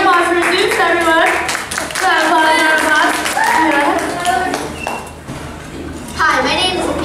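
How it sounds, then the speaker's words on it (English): Scattered clapping from a classroom of students after a child's Zeus performance, light uneven claps mixed with kids' voices and chatter running through the whole stretch. "Amazing, round of applause for Zeus,"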